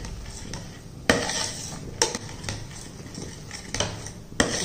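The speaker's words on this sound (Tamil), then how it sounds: "இதை எல்லாத்தையும் மிக்ஸ் பண்ணணும்." A utensil stirs thick urad dal kali in a pan, scraping and clanking against the metal at irregular intervals over a soft background hiss.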